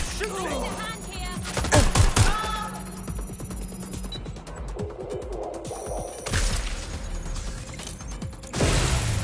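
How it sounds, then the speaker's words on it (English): Scattered gunshots and bursts from suspects firing in a PS4 video game, sharp cracks near and far over a busy soundscape, with voices talking throughout. "They're shooting! Suspect shooting."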